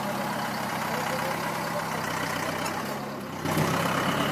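A vehicle engine idles steadily and close by, a low continuous rumble that holds for several seconds, dips briefly near the end and then swells back up slightly louder, with no talking over it.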